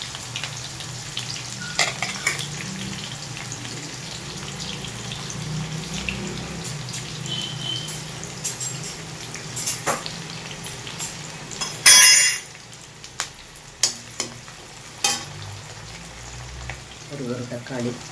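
Chopped onion dropped into hot oil with cumin seeds in a pan for restaurant-style channa masala, sizzling steadily with scraping stir strokes and one loud clatter partway through, no talk.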